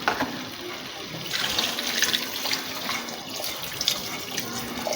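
Water pours steadily into a pan of pav bhaji vegetables and spices, a close, continuous splashing gush that runs for several seconds without speech.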